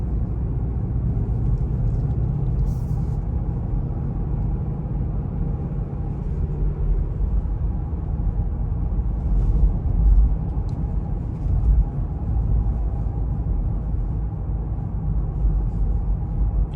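A 2022 Land Rover Defender 90 S P300 with coil suspension drives over a rough road, giving a steady, loud low rumble of engine and road noise with occasional small bumps and thumps throughout, no voices.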